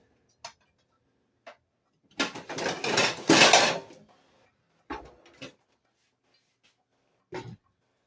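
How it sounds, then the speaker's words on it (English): Metal pot lid and cookware handled in a home kitchen, a few sharp clinks and taps spread apart, with a longer burst of rattling and scraping in the middle, close and otherwise quiet. "I'm going to grab my lid here"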